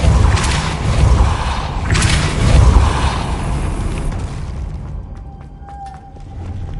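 Depulso spell cast in Hogwarts Legacy: a loud whooshing magical blast with heavy booming thumps that swells and then fades, followed by quieter ticking, clicking game effects and a faint tonal hum.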